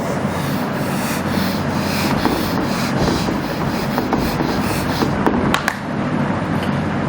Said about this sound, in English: so I'm rubbing this off